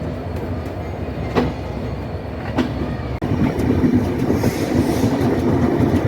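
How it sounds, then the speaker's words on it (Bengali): Ruposhi Bangla Express rolling out of Benapole station bound for Dhaka, a loud close rumble of rail cars with sharp wheel clicks over the joints, growing heavier and busier after a brief break. "তেরো মিনিট বিলম্ব নিয়ে আমাদের রূপসী Bangla express Benapole rail station ত্যাগ করলো ঢাকার উদ্দেশ্যে"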